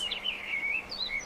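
Kingfisher call, a short series of high thin chirping whistles, faint and close, heard alone for about a second.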